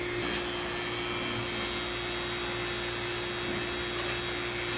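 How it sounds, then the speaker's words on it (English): A vacuum pump evacuating an air conditioning system during compressor, condenser and coil replacement, running as a loud, steady mechanical drone with a constant hum and hiss, unbroken throughout. "So we got a solid vacuum."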